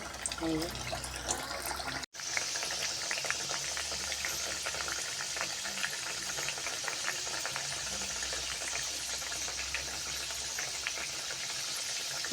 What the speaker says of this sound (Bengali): দেখো তেলটা গরম হয়ে গেছে এবার আমি এরকম করে একটা একটু করে ছেড়ে দেবো